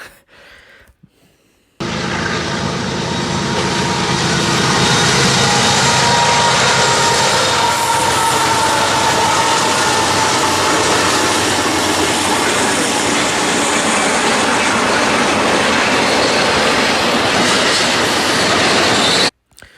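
A BNSF freight train bound for LA from Illinois rolls past close by, a sudden loud roar of wheels and rumbling cars holding steady for most of the clip before cutting off abruptly.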